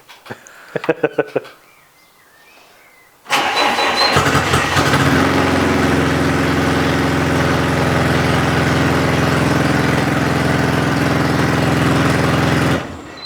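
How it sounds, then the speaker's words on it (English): A Volkswagen engine with no exhaust cranks and starts with a few rough bursts, then roars into a loud, raw, unmuffled idle that runs steadily before cutting off. "Now the thing is, it doesn't have an exhaust. Yeah, so it just sounds like a noise."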